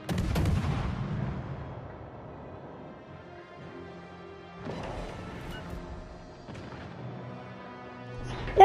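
Warship under constant gunfire in the World of Warships naval battle game on PS5: heavy booming artillery blasts at the start, around five seconds and near the end, with rumbling sea-battle noise between.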